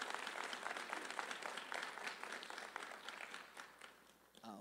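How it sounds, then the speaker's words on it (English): Audience in a university chapel claps in a dense, continuous patter of applause, fairly faint and distant, tapering off toward the end. "You can clap."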